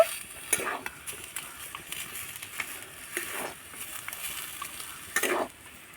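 A spatula scrapes and stirs chopped coriander leaves into a spinach filling in a pan on the stove, with soft repeated scrapes and clinks over a faint sizzle.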